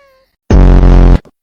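A cat gives a single loud, close meow lasting under a second, sounding drawn-out and tonal against near silence.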